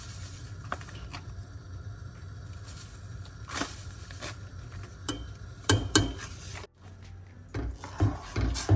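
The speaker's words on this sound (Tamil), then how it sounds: "சேர்த்துட்டு எல்லாத்தையும் நல்லா கலந்து விடுவேன்" Sugar stirred into a pineapple pudding mixture of tinned condensed milk and milk powder, with repeated scraping spoon strokes and light knocks against the pot, close and irregular.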